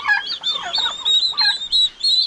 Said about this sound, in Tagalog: mga sisyo ng pabo ang nasa loob ng ating kulungan